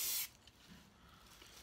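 High-heat spray paint hissing from an aerosol can in one short burst that cuts off after a fraction of a second, followed by quiet room tone.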